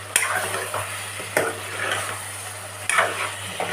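Chicken pieces mixed with curd are stirred in a hot pan, with three sharp spoon scrapes against the pan over a continuous sizzle, close and fairly loud.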